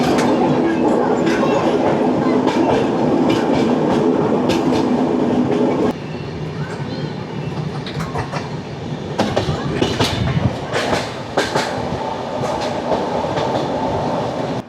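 Amaravati Express passenger train running on rails in hilly country near Castle Rock after leaving Londa Junction, a steady loud rumble with rhythmic clickety-clack of wheels over rail joints, the tone shifting partway through.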